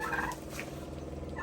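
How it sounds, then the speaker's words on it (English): A white turkey gobbles nearby in a steady, bubbling rattle with a couple of louder yelps, heard alone over a constant low background hum. "That's the white turkey."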